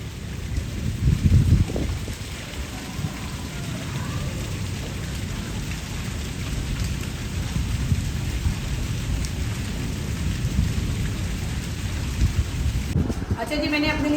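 Heavy rain pours steadily with a thunderstorm overhead, a constant dense wash of falling water with low rumbling, and water standing in the street; a brief clatter comes near the end.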